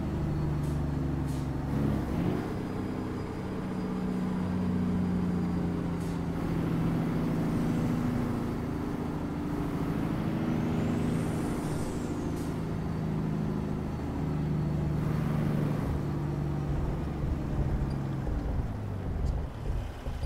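Heavy truck rumbling steadily over an icy road in American Truck Simulator, a low droning engine with occasional hiss and clatter, continuous and fairly loud throughout.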